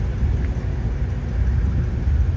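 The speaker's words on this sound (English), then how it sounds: "Badass engine." A car's engine runs at a steady idle during a road tour, a continuous low rumble with no clear changes, and nobody talks over it.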